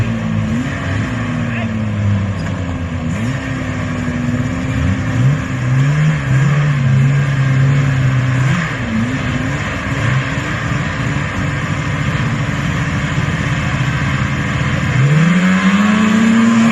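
Vintage snowmobiles in a grudge race, engine whine rising and falling steadily across the whole stretch, with people talking over it.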